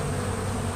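Honeybees buzz thickly and steadily during a spring hive inspection, a close, continuous swarm drone with no pauses and no voices.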